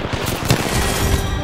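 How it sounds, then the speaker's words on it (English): Rapid gunfire from the video game Apex Legends, a dense, loud burst of automatic shots in close succession lasting about a second and a half, with no talk over it. "Shot fired, and they're hitting me."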